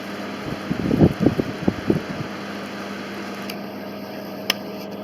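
A homemade DIY air conditioner fan runs as a steady, close whir with a constant hum, with a few low thumps early on and a faint click later.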